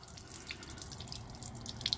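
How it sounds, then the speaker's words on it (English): Sink water drains into an RV's gray water tank, a faint steady trickle with scattered small drips close by, heard alone. "There's my sink water."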